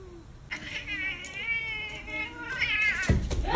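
A cat gives a drawn-out, wavering meow that rises and falls, followed by a second shorter cry, heard close up with a human voice nearby.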